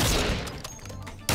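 A shotgun fires in an online multiplayer shooter game: a heavy blast at the start, then a quick scatter of shots and clatter, ending with another sharp blast, all close and loud.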